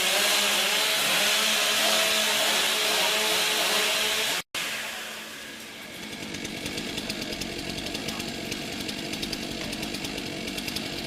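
Chainsaws roaring at a STIHL Timbersports competition, a loud high-revving whine that cuts off abruptly, then rougher buzzing and cutting noise as saws bite into the wood at close range.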